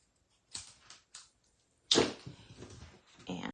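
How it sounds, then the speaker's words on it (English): Scissors snip freehand through a paper banner in a few short, crisp cuts, with a longer rustling cut near the middle; close and fairly quiet, no talking. "So I am just freehand cutting a banner here."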